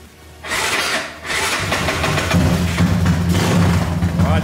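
A motorcycle with a weak battery turns over and catches, its engine firing up and settling into a steady, close idle with no talk over it.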